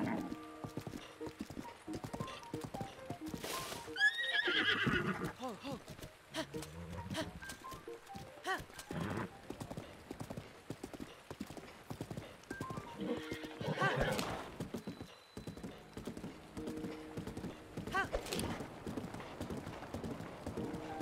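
Hooves clip-clop steadily while a horse neighs and whinnies several times, with other game sounds in the background, in the video game Zelda: Breath of the Wild.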